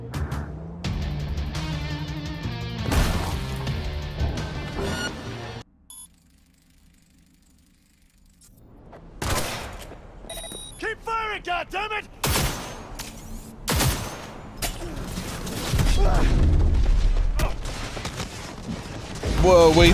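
Gunfire erupts in the video game Cyberpunk 2077. Sharp bursts and volleys of shots come in irregular clusters around game music and electronic effects, broken by a brief near-silent gap, ending in heavy sustained firing.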